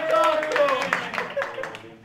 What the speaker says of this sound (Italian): Dai, un applauso anche per Ricky che ha perso